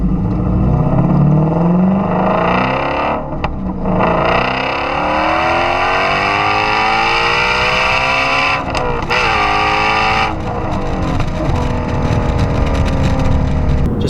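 A 2017 Ford Shelby GT350 V8 rumbles loudly while driving, its deep engine note rising through acceleration with brief dips at shifts, heard close from inside the car and continuous.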